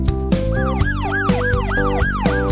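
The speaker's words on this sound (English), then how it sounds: "Police car, police car," A loud, close police siren wailing in a repeating rising-and-falling pattern, several cycles in quick succession.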